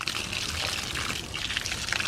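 Water is poured into a container of potting mix, a continuous close splashing trickle that sounds fairly loud and is heard alone.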